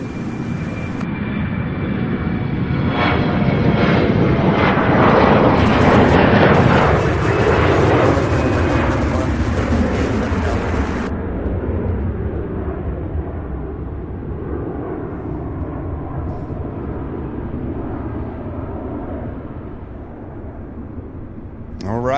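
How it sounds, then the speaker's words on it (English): A Boeing 747 departs from Louisville International Airport, its loud, broad jet roar swelling to a peak and then slowly fading into a distant rumble as people talk over it. "So this will be our first 747 departure of 12."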